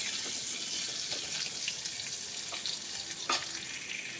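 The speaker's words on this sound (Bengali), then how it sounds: "অল্প একটু নুন আর অল্প হলুদ গুঁড়ো দিয়ে আলুটাকে খুব ভালো করে ভেজে নেব" Potatoes fry in a pan with a little salt and turmeric, a soft continuous sizzle with occasional stirring scrapes, faint and close.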